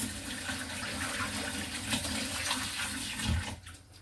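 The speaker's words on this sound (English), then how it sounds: "I'm going to put it in the hot water, hot vinegar and bleach water." Water sloshes and splashes steadily as a towel is dunked into a full basin of hot water, vinegar and bleach, ending with a soft swish.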